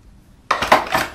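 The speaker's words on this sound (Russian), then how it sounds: "Это для нарезки сыра," A metal cheese slicer clatters against other kitchen utensils in a short, close burst of clinks and scrapes after a moment of quiet.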